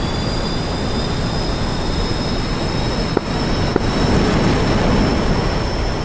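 Steady, loud aircraft engine roar and whine in the game DCS World as a jet lines up for departure, constant drone with a couple of faint clicks midway.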